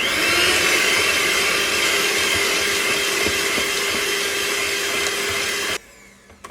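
An electric mixer whirs steadily while mixing butter, sugar and two large eggs for banana bread, a close, loud, constant motor whine that cuts off abruptly near the end.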